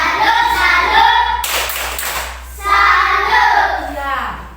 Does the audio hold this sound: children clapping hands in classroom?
yes